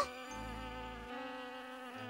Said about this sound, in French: La petite abeille vole jusqu'à un massif couvert de fleurs superbes.